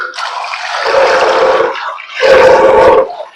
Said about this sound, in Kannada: ಇನ್ನೊಂದ್ ಸ್ವಲ್ಪ ನೀರು ಹಾಕೋಣ